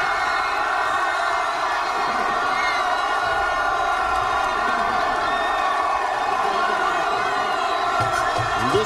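A packed Tiger Stadium football crowd of more than 80,000 at an Ole Miss vs LSU game roars in a steady, loud, dense wash of cheering and shouting that holds for the whole stretch, with no clear single voice.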